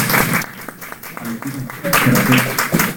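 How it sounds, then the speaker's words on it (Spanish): Audience applause for students at a Colombian court outreach event in San Andrés, steady broadband clapping over about three seconds, with voices talking over it. "por favor un fuerte aplauso para nuestros estudiantes"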